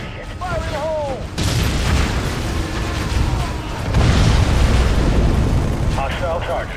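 A deep, rumbling explosion in Halo Wars on Xbox 360 swells into a sustained roar of debris and fire, with a second surge midway and faint voices and game chatter over it.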